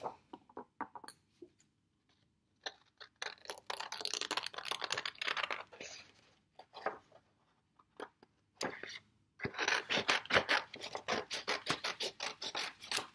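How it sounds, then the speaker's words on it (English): Scissors cut paper petals for a lily pad craft, a close series of crisp snips and scratchy paper rasps that come in bursts, with short quiet pauses between them. "Sometimes it's easier to just cut them out."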